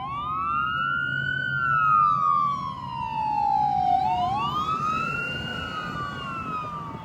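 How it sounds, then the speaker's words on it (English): An ambulance siren wailing, rising and falling in long sweeps, fairly close over low traffic rumble, with the pitch shifting as it passes. "hurry up with your stupid ambulance"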